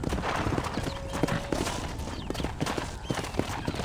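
Rapid galloping horse hooves in the Western video game Red Dead Redemption, a steady fast clip-clop rhythm close and loud, with a brief whinny partway through.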